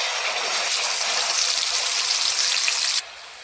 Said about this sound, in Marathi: तर सर्वात पहिले आपण कांदा आणि टमॅटो बारीक केलेला फ्राय करून घेऊया।